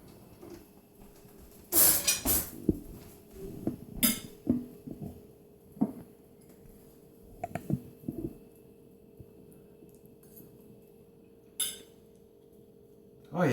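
Cutlery clinks and rattles as a fork is picked from a kitchen utensil holder, a few bright metallic jangles in short bursts separated by quiet, near and moderately soft.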